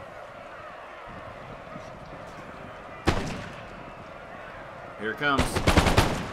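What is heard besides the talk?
dragoons firing muskets in video game Empire Total War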